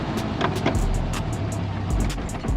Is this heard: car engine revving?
yes